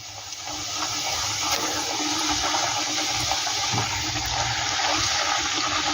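Sabu luchi made with sago fry several at a time in hot oil, a dense, even sizzling hiss that holds steady and loud from start to finish, with no one speaking.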